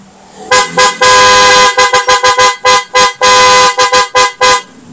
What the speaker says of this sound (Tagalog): Loud horn natin ito.